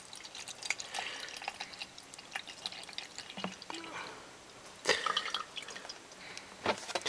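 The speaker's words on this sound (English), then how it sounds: "so pop this bottle up with water" Water poured into a car's coolant overflow bottle, heard as soft intermittent splashes and trickles, close and fairly quiet, with brief louder gurgles toward the end.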